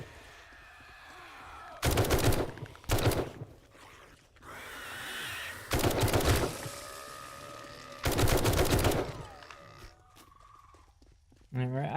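Bursts of rapid tac rifle fire in a video game come in four dense volleys of a second or so each, loud and close, separated by quieter stretches with talking.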